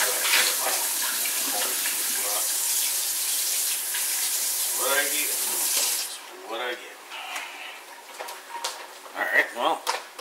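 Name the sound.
water running from tap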